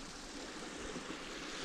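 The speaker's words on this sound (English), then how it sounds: "there's various little waterfalls" Small waterfalls on a moorland stream on Bleaklow make a steady, even rush of falling water, faint and continuous with no breaks.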